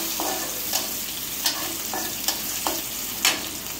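Green chillies fry in hot oil in a home kitchen, giving a steady broad sizzle, with several sharp scraping stir strokes spaced about every half second to a second, close and moderately loud.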